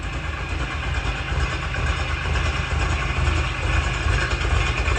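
A cammed 3-valve car engine idles steadily close by, a deep rumbling low-end drone with a slightly uneven, loping pulse that holds a constant loudness throughout.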